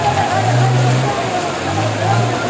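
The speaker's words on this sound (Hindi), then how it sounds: "बहुत तेज़ बारिश हो रही है कराची में।" Heavy rain falls steadily in Karachi near a vegetable market by the super highway, making a dense, loud wash throughout. A low vehicle hum runs underneath.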